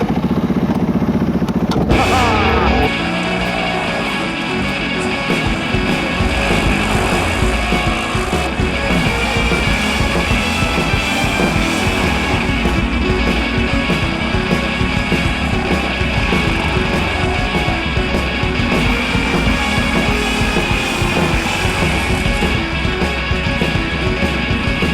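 Segway Snarler AT6 570cc single-cylinder ATV being driven, its engine note steady and loud throughout after an abrupt shift a couple of seconds in, with no talking.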